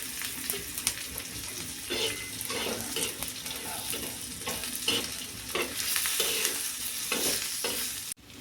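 Whole spices and a little more oil tipped into a hot pan, a busy close sizzle with repeated stirring scrapes and spoon clatter, fairly loud and continuous, ending in a sharp knock.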